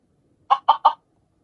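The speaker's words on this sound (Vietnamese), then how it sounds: "Đây rồi, đây là một con gà." A chicken in a mobile video game gives three quick, loud clucks in an even rhythm, close up, with silence on either side.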